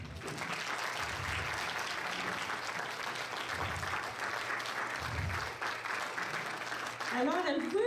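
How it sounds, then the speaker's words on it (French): A hall audience at the centenary celebration of a Cercle de fermières in Amqui applauds its members with sustained, even clapping. Brief voices can be heard beneath the clapping and at the end. "On pourrait peut-être les applaudir, hein?"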